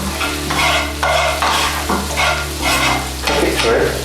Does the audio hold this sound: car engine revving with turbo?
no